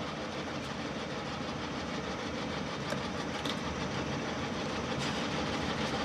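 A Mecof 45 mm radial drilling machine with a 1475 mm arm runs at 570 RPM with its spindle feed turned up fast, making a continuous rumbling mechanical drone with faint clicks throughout.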